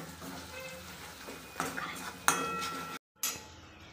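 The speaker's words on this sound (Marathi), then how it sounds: "हे सर्व आपण मसाले मिक्स करून घेऊया" Metal spoon clinks and scrapes against a pan while ground spices such as turmeric and coriander powder are stirred together, with a few sharp clinks standing out over a faint background.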